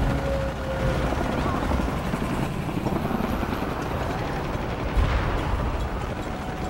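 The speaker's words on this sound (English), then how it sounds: "More helicopters." Dense, continuous rotor-like roar of video game helicopters with booming rumbles underneath, loud and sustained, the wash of noise filling the whole stretch.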